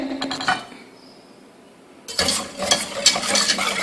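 Clinking and scraping of a spoon against a pot while stirring starch and sugar for kunafa with cream, in quick irregular strokes, pausing briefly before resuming more vigorously.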